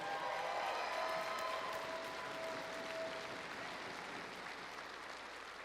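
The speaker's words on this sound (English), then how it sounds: "So give them a big round of applause," An audience at a FIRST Robotics competition event in Spokane applauds the volunteers, a soft, distant wash of clapping that slowly fades, with faint tonal noise in the hall early on.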